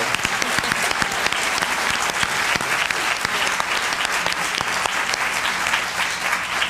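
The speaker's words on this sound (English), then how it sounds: "Okay, that was your applause." Audience applause fills a congressional debate hall in Pennsylvania's 5th District, a steady dense clapping crowd sustained at even loudness throughout, with no one speaking over it.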